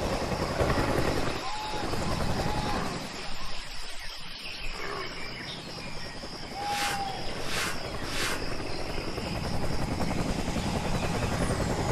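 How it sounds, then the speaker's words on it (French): A helicopter in the jungle shooter Raven Squad sets down near ruins, its steady rotor and turbine hum running throughout under insect and jungle ambience, with a few brief tonal chirps. "Cet hélico atterrit près des ruines"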